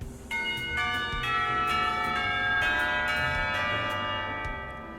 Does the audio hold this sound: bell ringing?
yes